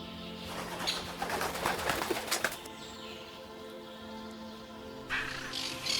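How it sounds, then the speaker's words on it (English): A flock of birds in Botswana, pigeon- or dove-like, with dense bursts of wing flapping and rustle in the first half, then softer cooing calls. A steady low drone runs beneath, and another flurry of wings comes near the end. "The flapping of their wings mingled with their calls, creating a lively, joyful yet instinctive music."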